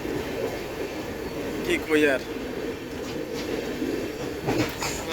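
A lone locomotive engine with no carriages rolls along rails in Assam, a steady broadband rumble with a brief rising squeal midway, while a voice speaks over it.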